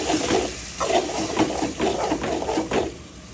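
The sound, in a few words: sautéing shrimp with ginger-garlic-chili paste and spices in pan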